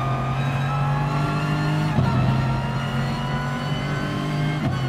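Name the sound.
race car engine in Gran Turismo video game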